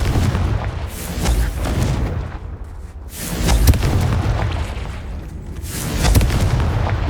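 Confringo fire-spell blasts go off in the wizarding game Hogwarts Legacy, a series of loud, deep booming explosions roughly every few seconds, each followed by a rumbling decay, with no talking.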